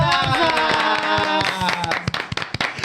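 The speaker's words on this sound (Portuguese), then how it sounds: "Uma salva de palmas pras meninas!" Guests on a talk show get a round of applause from the audience. Clapping builds out of a bright musical passage and continues as dense, fairly loud irregular hand claps.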